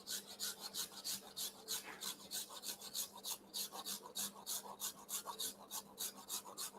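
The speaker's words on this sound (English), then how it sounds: "so this side is scraped off, and then this side is quite flat, right? So you can see that. Okay, so I'm going to continue scrape this one out." A gingerbread house panel gets scraped flat in a quick, steady rhythm of short, dry rasping strokes, close and fairly quiet, with no talk.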